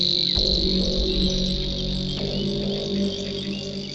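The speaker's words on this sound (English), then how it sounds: "River warbler." A river warbler sings a continuous, dry, insect-like reeling trill, steady and unbroken, with some lower background noise and a couple of faint clicks beneath it.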